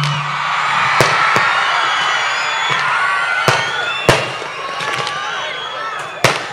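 A large crowd of fans at a Vijay Deverakonda event shouts and cheers in a continuous roar, punctuated by sharp bangs like firecrackers or claps going off several times.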